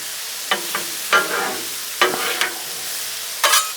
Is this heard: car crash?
no